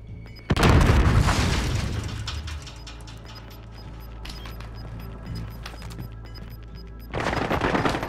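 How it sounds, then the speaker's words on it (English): Grenade blast in Call of Duty: Modern Warfare, a loud deep boom with rumble, then quieter scattered gunfire and game noise, and a second heavy burst toward the end. "I'm gonna chuck a grenade if I'll go through the back window."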